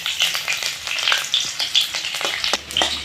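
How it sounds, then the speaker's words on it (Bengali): Chopped onions and whole cumin sizzle in hot oil as a spoon stirs them, giving close, loud crackling with rhythmic scraping strokes in quick succession. "একটু নাড়াচাড়া করে পেঁয়াজটা একটু লাল করে ভেজে নিব।"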